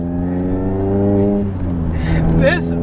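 A car engine revs on a downshift from inside the cabin, a steady rising drone that swells and eases, while someone talks and exclaims over it.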